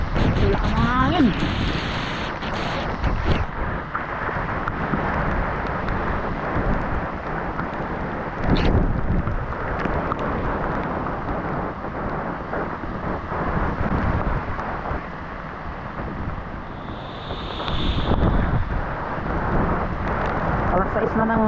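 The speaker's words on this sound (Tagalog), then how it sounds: "hindi pa rin na natatapos yung pag-ulan" Heavy typhoon rain pours steadily around a flooded dorm, a dense, continuous roar with gusty wind buffeting the microphone throughout, while a voice speaks over it now and then.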